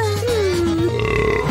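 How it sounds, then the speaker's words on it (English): A loud, drawn-out burp from a cartoon boy at a restaurant, a single wet belch that rolls on for over a second with a slightly rising, grunting tail, close and alone. "it's not a competition to see who can burp the loudest"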